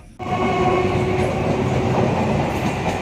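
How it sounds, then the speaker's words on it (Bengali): A train bound for Gopalnagar rumbles past on the rails, loud and close, with a steady heavy roar and rattle that holds for the whole stretch. "তোমরা যে ট্রেনটা দেখলে এই ট্রেনে করে আমরা গোপালনগর চলে পৌঁছে যাচ্ছি"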